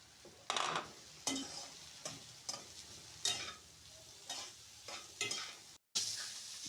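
Cabbage and onions stir-frying in a pan, quiet background sizzle broken by repeated sharp bursts as ingredients are tossed and stirred, with one brief dropout near the end.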